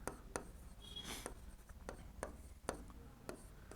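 Chalk or marker taps and strokes on a classroom board, a sparse series of short, sharp scratches and knocks over a quiet room hiss, faint and close-miked.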